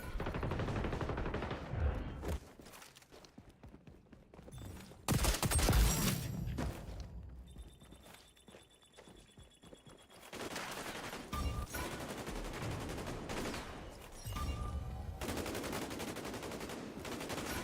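Gunfire in the shooter game XDefiant, rapid automatic bursts and single shots in clusters, loud and close, with brief lulls between exchanges.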